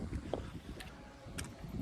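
Wind blows outdoors on a stormy evening as rain threatens, a steady broad rushing that rumbles against the microphone with a few faint gusts and knocks, no voices heard.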